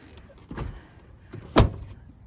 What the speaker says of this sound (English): See if my door will close.